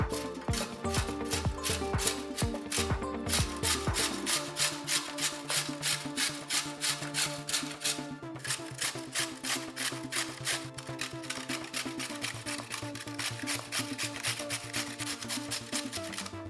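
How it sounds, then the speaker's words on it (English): Carrots being grated for a home-cooked dish, a fast continuous rasping rhythm of many quick strokes close by, steady and fairly loud throughout with no talking. "Next step is to grate carrots."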